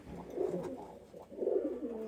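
A large Lakha pigeon coos in two rounded, throaty phrases a second apart, close and fairly soft, with no other sounds around it.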